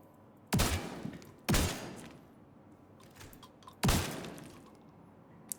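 Three loud, sharp bursts of video game gunfire from blind-firing a weapon, each a punchy blast with a short decaying tail, separated by brief pauses.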